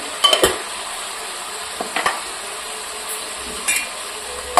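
Cauliflower fried rice being stir-fried in a pan, with a faint background sizzle broken by a few sharp spatula scrapes and knocks against the pan, close and sparse, no talking.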